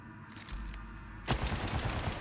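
A Vladoff gun fires in Borderlands 4, a dense, rapid burst of automatic gunfire that erupts suddenly halfway through and stays loud to the end.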